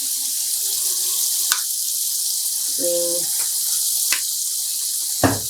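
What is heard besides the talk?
tap running cold water into a rinsing tub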